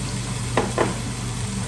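Garlic sizzling with carrots in a pan for glazed carrots, a steady close frying hiss broken by two brief scraping stirs.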